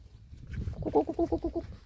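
Chickens let out outside, with a run of rhythmic clucking calls rising over low background rumble.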